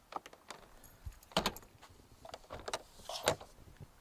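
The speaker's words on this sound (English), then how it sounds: "close your door, lock your habitation door" Keys jangle and rattle as a motorhome habitation door is locked, a series of close metallic clinks and clicks with a few sharper knocks, no talking.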